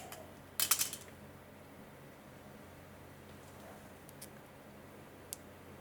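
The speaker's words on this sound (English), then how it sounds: "So now I'm going to trim my wire. And I'm going to trim both ends." Jewelry wire being trimmed at both ends with cutters, a quick cluster of crisp metallic snips followed later by a few faint single clicks over a quiet hiss.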